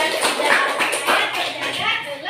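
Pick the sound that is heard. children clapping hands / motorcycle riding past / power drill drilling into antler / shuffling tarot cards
children clapping hands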